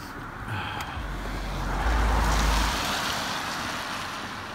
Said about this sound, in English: About to see a car drive through it.